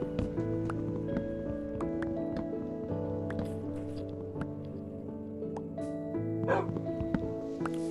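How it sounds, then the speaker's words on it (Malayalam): A dog barks in the video game Minecraft, giving a few short, clipped yips over steady in-game music, with scattered clicks and small game sounds. "പട്ടിനെ നമുക്ക് പെറ്റാക്കിയാലോ?"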